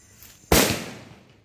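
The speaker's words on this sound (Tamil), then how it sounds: "பட்டாசு வெடிக்கிறது" A Diwali firecracker goes off in one sharp, loud bang after a quiet lead-in, and its noisy tail dies away over about a second.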